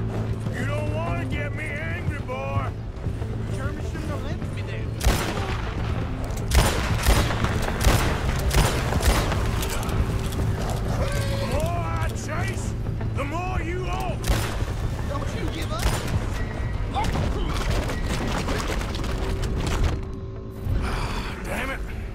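Repeated bursts of gunfire in Red Dead crack among busy game sounds, hoofbeats and mechanical clatter, with a voice talking over the action.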